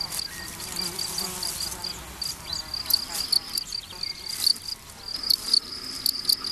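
Crickets chirp steadily by rubbing their wings together in a European summer meadow, a dense, continuous high-pitched trill with buzzing insects mixed in, no voices.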